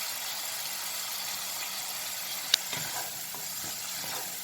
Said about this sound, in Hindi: अब हम यहाँ पर इसमें टमाटर डाल देंगे। टमाटर के साथ ही हम इसमें बाकी मसाले डाल देंगे।